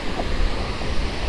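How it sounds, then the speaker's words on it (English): Strong wind buffets the microphone outdoors at a spillway, a steady low roar and rumble lasting the whole moment with no voices. "It's windy as hell."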